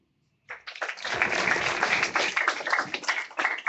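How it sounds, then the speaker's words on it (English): Audience applause at an internet video channel launch event bursts in after a moment of silence and continues as dense, steady clapping from a roomful of people. "and let's clap for him"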